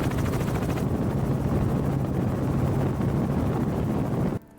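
A helicopter over Maui flying for an aerial shot gives a loud, steady rotor thrum with wind buffeting the microphone, continuous throughout before cutting off abruptly near the end.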